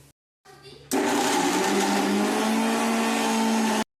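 An electric blender grinds bottle gourd chutney with coriander and salt, roaring loudly and steadily for about three seconds before stopping abruptly; a brief voice and clatter come just before it starts.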